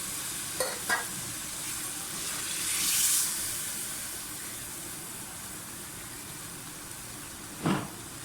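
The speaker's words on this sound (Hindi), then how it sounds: "आधा ग्लास पानी डाल दें।" Half a glass of water goes into sliced potatoes frying in a pan, giving faint, brief splashing bursts over a low, steady sizzle.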